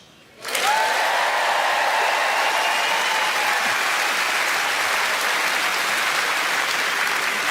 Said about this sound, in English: Wave of applause